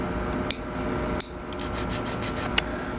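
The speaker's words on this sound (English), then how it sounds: "I decided I'm gonna trim them all down and reshape them" Fingernails being trimmed and filed into a new shape: a soft, steady rasping rub with a few sharp clicks, close and fairly quiet, with no talking.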